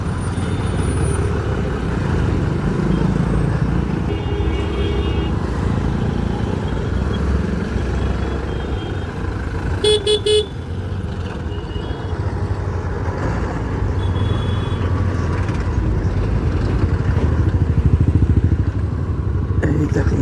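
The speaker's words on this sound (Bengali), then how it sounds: "রেলগেটে তো একটু জ্যাম থাকবেই।" Dense road traffic idles and crawls in a jam at a railway level crossing in Purulia, with motorcycles and cars rumbling steadily nearby, a brief horn-like burst around the middle, and no talk.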